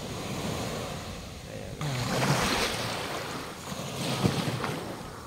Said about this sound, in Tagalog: Sarap ng hangin sa dagat.